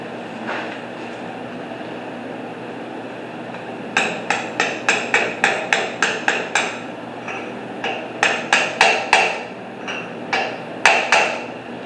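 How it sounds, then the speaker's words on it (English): Hammer blows on a 12-point socket set against the flange of a cap on a C-10 truck, a sharp metallic series of rapid strikes in two bursts with a short pause between, loud and close. "instead of beating on that part of the cap we don't want to dent, we'll be hitting on the flange itself"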